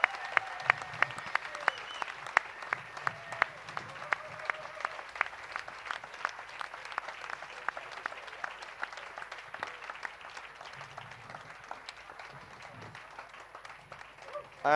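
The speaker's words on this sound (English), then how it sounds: "please give us once more a warm round of applause for our special guest" An audience gives sustained applause to reggae guest Bunny Wailer at an Island Records anniversary event at Reggae University, a dense crowd clapping steadily throughout at moderate volume.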